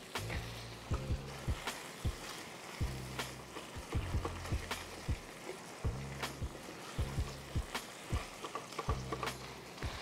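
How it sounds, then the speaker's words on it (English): Onions and jalapeno sizzle steadily in a pan for a smoked queso dip, a constant close hiss punctuated by repeated sharp clacks and scrapes of a utensil stirring. "it's time to go on with the onions and the jalapeno. Let them sweat down and get nice and tender."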